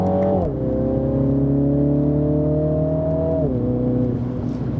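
A 231 hp Mini Countryman John Cooper Works engine pulls hard under acceleration while overtaking, its steady droning tone climbing, dipping briefly at a gear change, then rising again, heard from inside the car with no talk.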